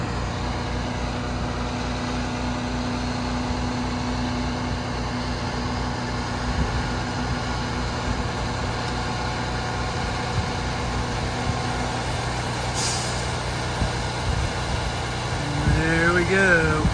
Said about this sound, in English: I'm just going to use the tractor to haul these things over to the other side of the pond